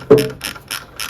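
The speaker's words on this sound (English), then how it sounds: "So what I'll do now is just undo these bolts, get this off" A ratchet wrench undoes bolts on the steering of a 1960 Bolens Ride-a-matic: one sharp burst of clicks, then three evenly spaced ratcheting strokes, close up with no talking.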